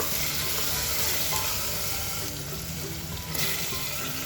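An onion mixture sautéing in a pan, a loud, steady sizzle and hiss with a faint stirring scrape, close up and continuous, no voices.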